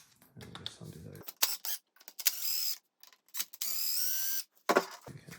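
Small screws undone with a fine-pointed screwdriver on an Alfa 155 wing mirror: sharp ticking clicks and short scraping metal bursts in an irregular, close-up rhythm, with quiet pauses between.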